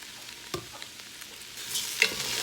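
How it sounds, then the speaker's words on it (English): Lentils in a soup pot are stirred, with a few quiet scrapes and knocks of a spoon followed by a rising faint sizzle, brief and close. "Give that a nice stir."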